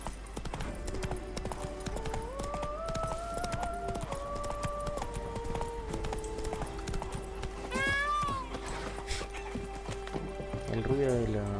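Hooves of Roach, the horse in The Witcher 3, galloping as a rhythmic clip-clop under game music and a speaking voice.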